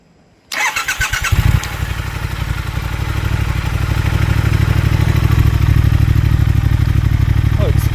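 A motorcycle engine fires up after an idle fix and settles into a loud, steady, close idle with a pulsing, even beat.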